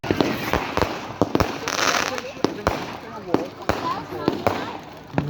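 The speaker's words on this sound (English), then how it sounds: "Walking right next to the bonfire with fireworks right behind it" Bonfire night fireworks crack and bang in a rapid irregular series of sharp loud bursts over a crackling wash, with crowd noise between.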